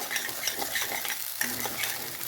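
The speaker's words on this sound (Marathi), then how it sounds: "तेल सुटेपर्यंत चांगलं भाजून घेणार आहे. कमी गॅस केलेला आहे." Egg curry masala roasts in oil over low heat while being stirred, producing a close, continuous scraping and soft sizzle with small clinks of a spoon on the pan.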